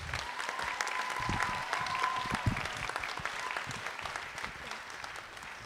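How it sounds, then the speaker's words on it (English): Audience at a high school pops concert applauding the music teachers, a full, even round of clapping from many people, moderately loud and sustained, with a faint tone lingering underneath. "can we get a round of applause for all those people"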